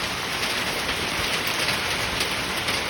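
Hail pours down during a storm with wind and heavy rain, a dense, steady hiss and patter with no breaks and no voices.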